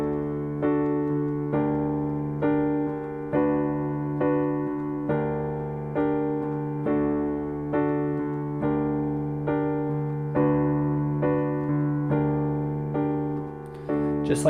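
Piano accompaniment for a song's verse, each chord struck and held for two even beats in a steady, unhurried rhythm, decaying between strikes, played alone and close.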